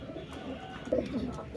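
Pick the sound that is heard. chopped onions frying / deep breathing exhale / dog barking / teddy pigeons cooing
teddy pigeons cooing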